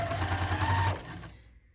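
A sewing machine stitching a quilt hums in a short steady run, close and clear, then winds down to a stop.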